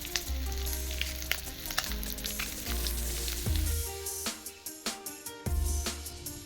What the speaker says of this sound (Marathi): आता फ्राय करतो